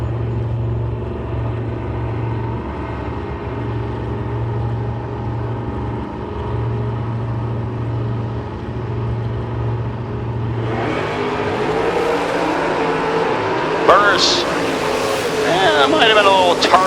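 A Chevy Nova and a 1968 Barracuda launching at a door-car drag race: a loud steady engine drone builds into a harsh roaring surge of revving as the cars leave, heard up close and alone.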